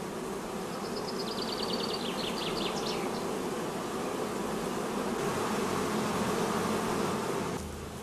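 Honey bees swarming over frames of sealed brood and honey stores in a queenless colony make a steady, dense buzz that fills the whole stretch, with a few brief higher whines drifting past close by.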